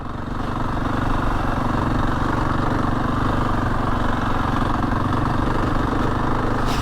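Husqvarna 701 Enduro single-cylinder motorcycle ridden up a winter mountain pass, its engine droning steadily and loudly throughout under constant wind rush.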